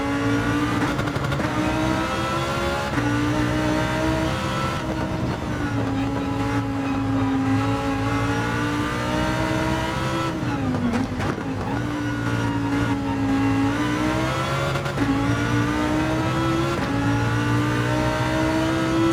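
A Lamborghini GT3 race car in a racing video game, its engine droning steadily under load with rising pitch sweeps and brief dips at each gear shift, loud and unbroken across the whole stretch with no talk.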